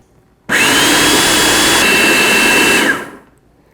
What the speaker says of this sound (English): Now I'm just going to blend this on low until the eggs and the pumpkin are well incorporated.